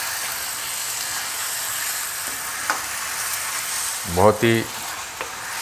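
Spicy chicken sausage masala sizzles softly in a pan under a steady hiss, with a short burst of spatula scraping and stirring near the end and a brief spoken word.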